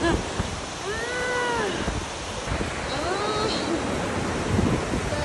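Takakkaw Falls in British Columbia roars as a constant rushing wash mixed with wind noise, while people's voices briefly rise over it.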